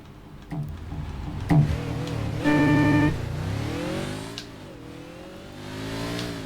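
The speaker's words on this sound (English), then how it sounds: "Bit of turbo lag on this car as well." Turbocharged race car engine in the Forza Motorsport game revving hard through rising gear pulls, loud and close, then settling into a steadier drone with no voices.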